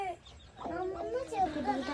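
A mother hen and chicks cluck softly nearby in a quiet setting, a few short calls rising and falling in quick succession.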